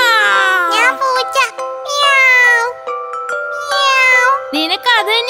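A voice in a Malayalam cartoon imitates a cat with long, wavering, high-pitched meows, loud and close, repeated several times with short pauses between them.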